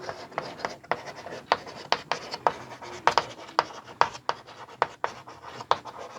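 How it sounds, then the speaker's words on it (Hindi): Chalk-and-board style writing strokes during a Hindi physics lecture: a steady run of short, scratchy taps and rubs, roughly two or three per second, close and clear with no talking over them. "यहां लिख देते हैं"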